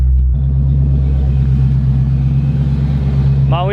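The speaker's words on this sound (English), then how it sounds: "I'm gonna give it a couple revs so my dad can get his first impression." A parked car idles with a loud, steady low rumble and a continuous engine drone that stays close and even throughout.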